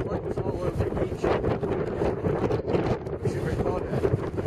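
Heavy wind on a beach batters the microphone in a constant, loud rumbling roar, and voices are partly buried underneath.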